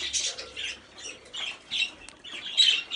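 An angry male pet bird, a blue one, gives a run of harsh, scratchy squawks in short bursts, close and moderately loud, with brief gaps between calls.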